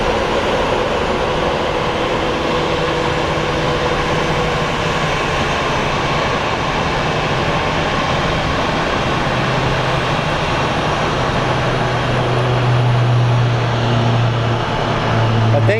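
A Southwest Airlines jet in Canyon Blue livery rolls in at Phoenix Sky Harbor International Airport, its engines a steady broad roar with a low rumble that swells slightly toward the end, heard continuously without talk.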